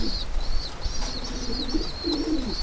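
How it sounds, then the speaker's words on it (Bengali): A fantail pigeon takes off and flies upward, wings flapping in soft bursts amid steady cooing and chirping from other pigeons nearby, with a continuous outdoor hum underneath. "এই আমার লক্ষা কবুতরটা উপরে গিয়েছে"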